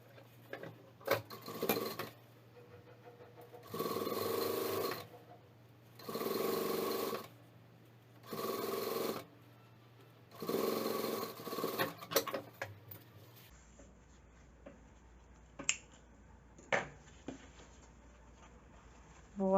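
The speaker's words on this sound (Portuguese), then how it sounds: "coloco aqui e viro para passar a costura por cima dessa" A sewing machine stitching fabric for a makeup bag runs in about five steady motor-driven bursts of rapid needle clatter, separated by short pauses, followed by quieter handling clicks and rustles.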